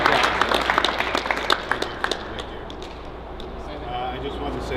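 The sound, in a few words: applause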